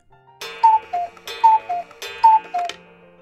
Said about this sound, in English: The bullet smashed a fine French clock. The clock had just struck three.